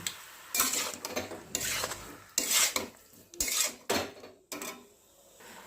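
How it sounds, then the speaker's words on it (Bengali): Spoon scraping and stirring ground coconut paste as it fries in a pan for a radish sour curry (mulor ambol), in repeated close rasping strokes with short pauses between them. "এর মধ্যে আমি দিয়ে দিচ্ছি নারকেল বাটাটা, এটা নিয়ে ভালো ভালো করে একটু কষিয়ে নেব"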